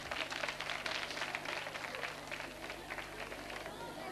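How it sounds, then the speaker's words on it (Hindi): An audience applauds two quiz contestants at a Holi quiz show in a women's polytechnic college, a dense burst of many hands clapping at moderate distance that holds steady for several seconds and gradually thins out. "तालियां दोनों के लिए जोरों से बजाइए आप"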